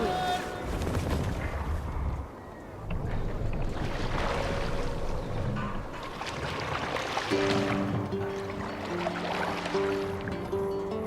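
Boat sailing in Assassin's Creed Valhalla, steady loud rush of water and wind with low rumbling, joined later by a held musical tone; a voice briefly speaks.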